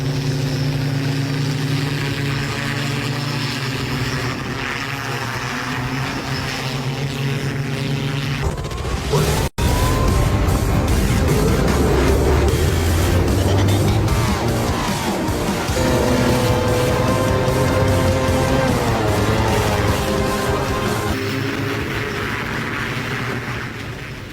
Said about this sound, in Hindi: दुबई में क्राइम रेट बहुत ज्यादा नहीं है, लेकिन कानून व्यवस्था को और मजबूत बनाने के लिए यहां पुलिस को पिछले 3 साल से फ्लाइंग बाइक की ट्रेनिंग दी जा रही है